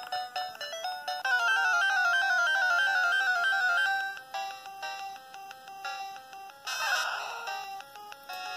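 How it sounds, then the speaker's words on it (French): Chiptune-style electronic cry of a Pikachu in a retro video game, a quick warbling burst of synthetic bleeps among other game tones. "c'est le bruit d'un Pokémon, d'un Pikachu sauvage"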